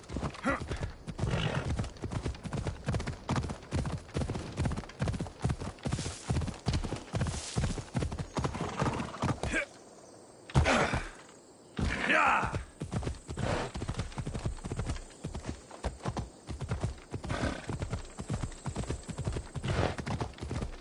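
Hoofbeats of a horse galloping in Assassin's Creed Odyssey, a fast continuous clip-clop pounding up close with a short break and a neigh midway, under a few spoken words.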